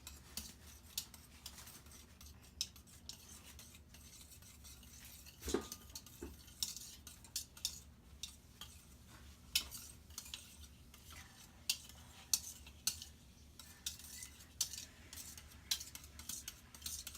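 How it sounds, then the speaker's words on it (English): A spoon scoops homemade Instant Pot yogurt out of a container, giving faint scattered clinks and scrapes over a quiet background, with one sharper knock near the middle and no talking. "I'm going to go get a spoon, and we're going to scoop the rest out"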